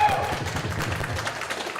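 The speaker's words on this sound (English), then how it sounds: "have a round of applause for your parents who've supported you this whole time" An audience at a spring high school orchestra concert claps for the players' parents, a dense, lively patter of hands that fills the hall, with a voice heard briefly over it.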